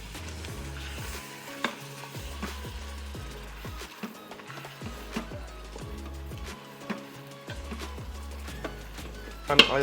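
Meat fries with onion and spices for Persian ghormeh sabzi stew, a keto version, giving a steady soft sizzle. Repeated scraping stirs from a utensil against the pan sound close by, over a low rhythmic background.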